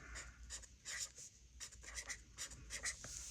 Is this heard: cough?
no